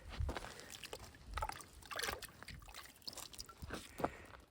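Water splashes and trickles as it washes dirt off a freshly dug-up object, a faint, irregular run of sloshes and dribbles.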